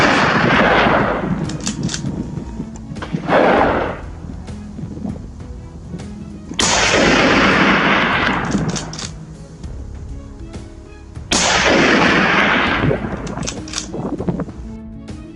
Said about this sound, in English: the first gunshot echoed through the hills